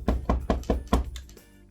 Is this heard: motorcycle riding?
no